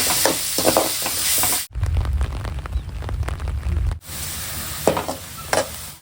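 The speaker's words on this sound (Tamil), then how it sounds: "நல்லா வதங்கட்டும்" Sizzling and stirring of spices sautéing in a pan, ground spice mixture frying with a steady hiss, broken by a burst of lower, louder bubbling frying in the middle before the sizzle with scraping stirs returns.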